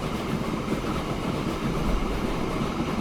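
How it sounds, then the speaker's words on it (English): A train running in the video game Transport Fever 2 gives a steady, continuous rumble with a rattling rail texture, close and unbroken throughout, with no talking. "Right, so the train is now on its way to Carson City."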